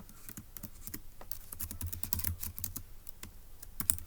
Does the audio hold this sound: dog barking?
no